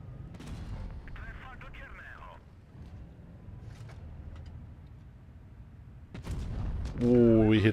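Gunfire in a video game, with bursts of shots and booms over a steady rumble, growing louder and denser toward the end.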